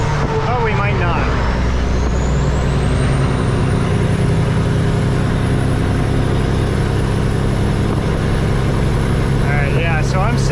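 A Peterbilt truck with a fueling fault labors up a hill, its engine droning loud and steady from inside the cab while a faint whine rises in pitch, and a voice speaks briefly over it.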